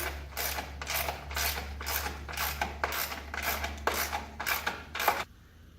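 Bunk bed bolts are tightened with hand tools in a series of about ten rhythmic ratcheting strokes, each a close, raspy burst, before the sound stops abruptly.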